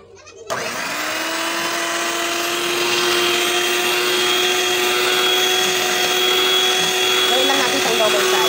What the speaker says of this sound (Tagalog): Tapos, gagawin ko siya ng electric mixer.